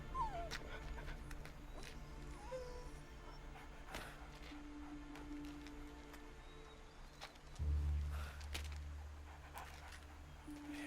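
A dog whimpers softly in a quiet scene from a French teen romance film, with thin high whines and small yips drifting in and out at low volume, joined by a low rumble near the end.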